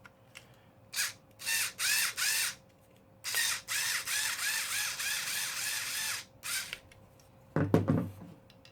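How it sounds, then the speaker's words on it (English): A power screwdriver drives screws into a shell, sounding as a series of close whirring bursts of varying length, with short pauses and a final heavier grinding burst, no voices. "And then we are just going to screw in."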